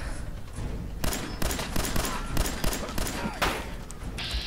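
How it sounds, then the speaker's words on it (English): A 10mm pistol fires repeatedly in Fallout 4, a string of sharp, loud shots at irregular intervals, roughly half a second apart, with gunfire echoing between them. "I'll switch to the 10mm pistol because I'm running low on laser ammo."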